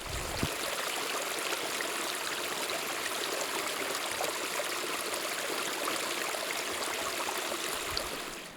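Continuous broadband rush of a stream flowing through an old growth forest, steady and fairly close, with no voices.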